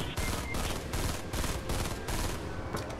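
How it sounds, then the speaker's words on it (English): A burst-fire assault rifle in Fortnite Save the World shoots in quick clustered bursts separated by short gaps, loud and close. "Here's the assault rifle in Save the World."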